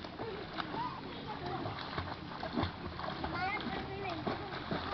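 Children swim and splash in a resort pool, with continuous nearby splashing and churning water, while kids and adults talk and call out over it.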